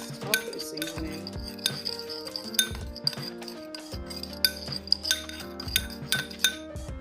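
A metal utensil stirs taco seasoning spices in a bowl, producing repeated close clinks and scraping taps in an uneven rhythm with no talk.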